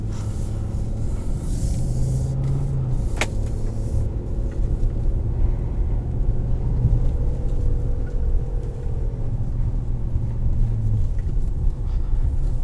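A 2020 Nissan Titan pickup rolls steadily over the road with a continuous low rumble of tyres and engine, broken by one sharp thud as it drops through a big hole a few seconds in.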